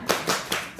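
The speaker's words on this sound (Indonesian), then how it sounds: "Yuk, tepuk semangat." Rhythmic hand clapping by a group of students, three quick loud claps in an even beat, close and short, with no talk over them.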